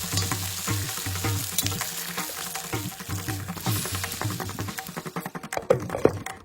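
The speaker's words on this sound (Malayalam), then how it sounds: "ഉണക്കമുളക് നുറുക്കും കറിവേപ്പിലയും ഇട്ടു മൂപ്പിച്ചു വാങ്ങി" Dried red chilli pieces and curry leaves crackle and sizzle in hot oil for a tempering, a steady close frying hiss with stirring clinks and a few sharper pops near the end.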